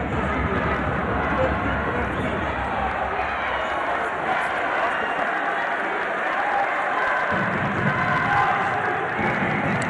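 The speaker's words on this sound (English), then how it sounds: "You can hear the crowd already." A boxing semi-final crowd at a 2012 African Olympic qualifying event roars steadily and loudly throughout, with dense cheering and clapping filling the hall.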